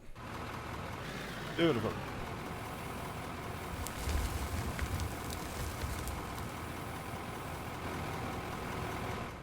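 A vehicle engine in the game Out of Ore, set in a harsh arctic winter, sputters to life with a brief rough burst and then settles into a steady, low, rumbling idle that continues throughout, while someone talks over it.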